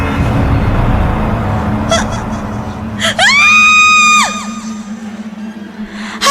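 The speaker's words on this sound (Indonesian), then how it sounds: "aku pun akhirnya bisa berteriak." A dramatized scream rings out in a radio horror drama, a single sustained piercing shriek lasting about a second, set against a low background hum with faint ambient noise before and after.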